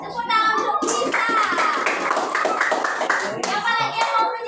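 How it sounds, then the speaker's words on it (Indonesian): A classroom of children claps for a classmate in rhythmic, fairly close clapping, with children's voices heard alongside. "Tepuk tangan untuk Lisa."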